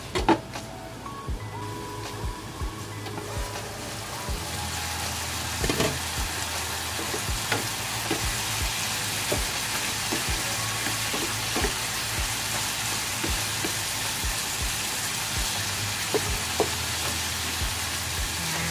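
Onions and beef for bistek cook in a covered pan, giving a steady, even sizzle with small pops and clicks throughout, close and moderately loud, with no voices.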